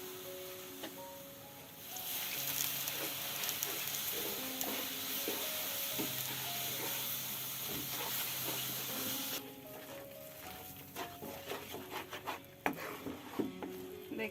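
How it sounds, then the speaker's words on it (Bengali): A spoon scrapes and rubs through semolina in a pan as liquid milk is poured in a little at a time, giving a quiet, continuous stirring rasp with soft sizzling over faint background music. "দুধটাকে আমি অল্প অল্প করে দিয়ে নেড়ে নিচ্ছি।"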